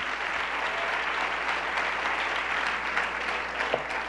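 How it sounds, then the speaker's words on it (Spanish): A church congregation at a 1996 service gives steady, even applause that fills the room for several seconds, a dense wash of clapping with no voices rising above it. "Démosle un aplauso a Él"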